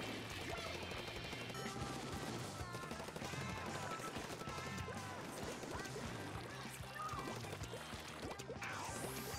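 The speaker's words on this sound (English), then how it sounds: "I'm just gonna keep firing all my missiles." Missiles fire continuously in Splatoon 2, a dense, unbroken barrage of rapid bursts and splashy impacts that stays loud throughout amid busy game effects.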